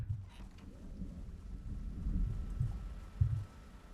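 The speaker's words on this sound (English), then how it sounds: "Oh, it's just lightning." Thunder rolls through a rainstorm in the zombie survival game Project Zomboid, a low rumble that swells and fades over a few seconds, with a couple of heavier thuds near the end and steady rain noise underneath.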